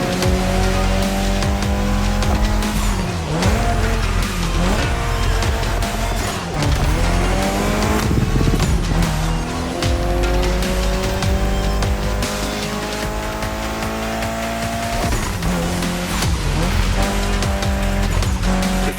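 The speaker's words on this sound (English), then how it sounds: "This was the Mitsubishi Lancer Evo X with a special Toji custom." A Mitsubishi Lancer Evo X in The Crew Motorfest races with a loud, constant engine roar that rises and drops through gear shifts, with tires squealing and skidding throughout.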